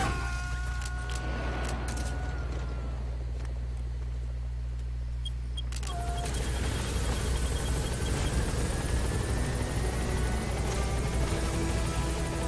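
Support helicopter rotor from the video game Metal Gear Solid 5, a steady low whirring drone throughout that grows louder and fuller partway through as it gains altitude.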